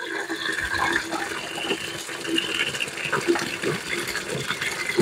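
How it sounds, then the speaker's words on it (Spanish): Water is poured onto and soaks into an orchid substrate, a steady close splashing trickle with small irregular drips and knocks running throughout. "le boto el agua y vuelvo y le echo agua"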